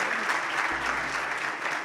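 An audience claps for the donors at a community event, a short, even burst of hand clapping from the crowd at moderate volume.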